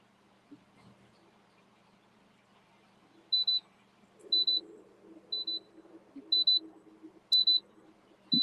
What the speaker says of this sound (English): You hear that beep beep? Yeah, what does that mean? Someone planted a bomb under my seat. No, it means I'm getting too close to the car in front of me.